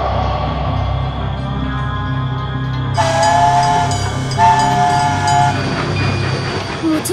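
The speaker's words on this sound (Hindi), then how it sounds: "क्या ये ट्रेन ढोलकपुर स्टेशन पे रुकेगी?" Animated cartoon train at a railway station: a loud steady rumble with clickety-clack from the wheels, joined partway through by a sustained horn or whistle tone, with no talk.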